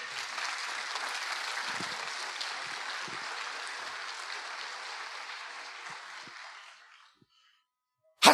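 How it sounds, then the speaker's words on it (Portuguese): A conference congregation applauds for Jesus during an evening session, a full, sustained round of clapping that gradually fades out over about seven seconds, then a brief silence before a sharp loud burst at the very end. "Cadê as palmas para Jesus?"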